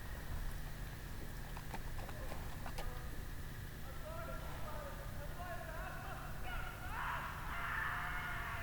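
Horse hooves clip-clopping as the animal runs in the Game of Thrones Telltale video game, a quiet patter of hoofbeats under game ambience with brief tonal calls later.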